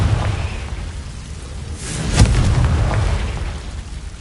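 A Confringo fire-blast spell goes off in a Harry Potter video game, a single booming burst with a whooshing crack in the middle, over a low rumbling game background.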